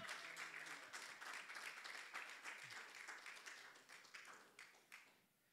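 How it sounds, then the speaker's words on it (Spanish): A church congregation stands and claps loudly and steadily for the Lord, a dense, continuous roar of many hands that gradually thins toward the end, with no voices standing out. "Ponte de pie, dale fuertes palmas al Señor"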